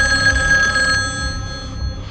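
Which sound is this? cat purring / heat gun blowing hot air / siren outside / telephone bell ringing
telephone bell ringing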